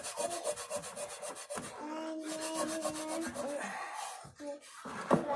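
Rhythmic scrubbing strokes on a cast iron skillet, a steady rasping back-and-forth rub repeated quickly and close up, with a brief pause near the end before the scraping resumes.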